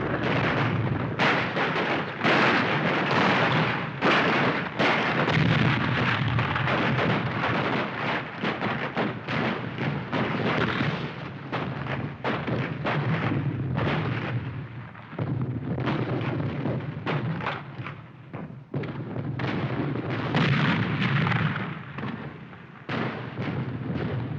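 Sustained battlefield gunfire and artillery, dense, loud bursts of shots and booming blasts rolling over one another almost without pause for the whole stretch.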